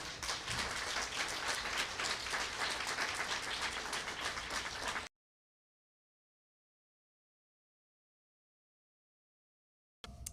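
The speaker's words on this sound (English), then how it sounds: "a round of applause for both the Honor Guard and the auxiliary" A ceremony audience at a memorial bridge dedication applauds the Honor Guard and auxiliary: dense, steady clapping for about five seconds, then it cuts to silence, with a faint return at the very end.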